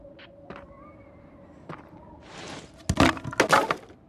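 A wooden crate from a helicopter smashed in the survival video game Survivorman: a few faint clicks first, then a burst of sharp cracking and splintering crashes near the end, loud and close with no talk.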